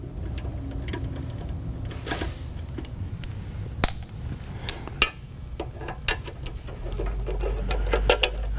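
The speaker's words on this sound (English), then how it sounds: "We're going to go ahead and start with a 7mm socket, and we'll undo these bolts on this back panel." A ratchet with a 7mm socket undoing bolts on a back panel during a blast cable replacement, with a series of sharp, irregular clicks and ticks, some louder snaps, over a quiet background.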